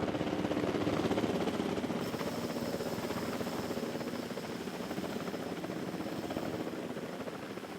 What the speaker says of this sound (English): Here comes our first Lystrosaurus, being carried down by another stupidly large helicopter